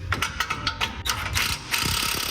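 A ratchet turning a 14 mm bolt on the downpipe of a 2023 Nissan Z in a home garage: rapid, crisp pawl clicks in a steady run, close up, with no talk.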